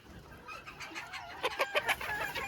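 Polish chickens, crested and bearded, in a farmyard pen, clucking in a run of short, fairly close calls that sharpen into a quick cluster of louder clucks near the end, with no talking.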